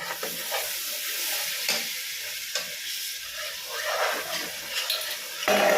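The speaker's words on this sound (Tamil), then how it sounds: "அது போட்டு ஒரு வதக்கிட்டு இந்த பச்சை வாசனை போகணும்." Spices sizzle and fry steadily in a hot pan for Sankarankovil-style seeraga samba mutton biryani, with a spoon stirring through the sputtering oil in a close, continuous hiss and a louder burst near the end.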